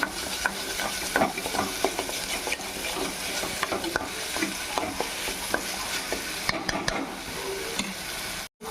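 Ginger garlic paste fries in a pan for a spicy egg and potato kurma, sizzling steadily throughout while a spoon stirs and scrapes with frequent clicks, near and fairly loud, no talk.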